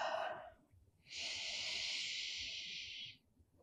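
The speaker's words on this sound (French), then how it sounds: "Encore Quelques respirations ici," Slow, relaxed breaths during a yoga session: a short exhale, a pause, then a long, steady airy breath lasting about two seconds, close and soft with no talking.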